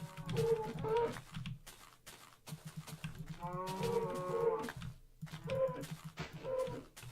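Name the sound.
Minecraft cow mooing, from a video game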